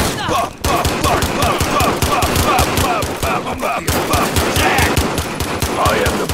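Sustained automatic gunfire from Call of Duty Modern Warfare in a multiplayer match, loud and near, firing almost continuously with a brief gap early on, while a voice occasionally cuts in.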